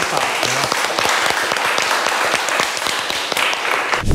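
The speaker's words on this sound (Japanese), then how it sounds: "では改めましてお二人に拍手をお願いいたします。" An audience applauds two hairstylists after a scissors-versus-thinning-shears cutting contest, a sustained crowd of clapping hands, fairly close, ending abruptly.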